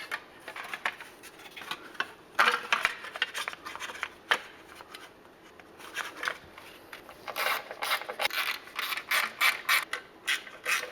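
A ratchet reinstalls the heat shields on a 2017-2020 Ford Raptor during a transmission oil and filter change, with close, rapid clicking in irregular bursts that grow quicker and more regular toward the end, with no voices.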